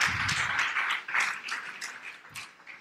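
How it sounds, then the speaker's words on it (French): A small audience at a church school session on marriage claps for a speaker, a soft, distant patter of applause that fades gradually before a sudden louder thump at the end. "Vous pouvez l'applaudir."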